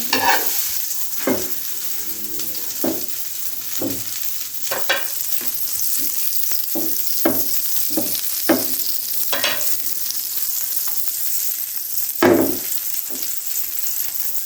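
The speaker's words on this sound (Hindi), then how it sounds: "तो आप मक्खन अगर आपके पास है तो आप इसमें इसको फ्राई करें।" Egg sandwich frying in butter on a hot tawa, with a steady sizzle throughout and repeated sharp scrapes and stirring clacks of a spatula against the metal.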